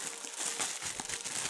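A plastic bag crinkles and rustles as a Dragon Ball crystal ball is pulled out of it, a short burst of close, faint crackling.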